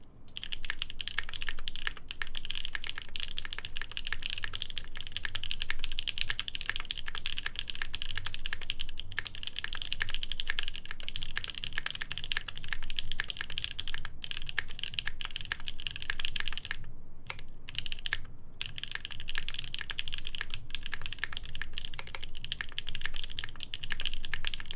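Continuous rapid typing on a Jubi mechanical keyboard fitted with olive recolored cream switches, a dense steady stream of close, crisp keystrokes with a few brief pauses.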